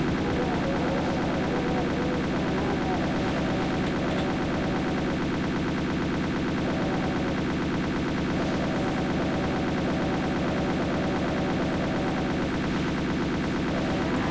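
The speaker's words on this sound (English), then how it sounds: "That's like the default amount of damage that you have to do with a double barrel shotgun." Dense, continuous gunfire in the Doom mod Deus Vult II, with a double barrel shotgun among the weapons, booming steadily and loudly for the whole stretch without any talk.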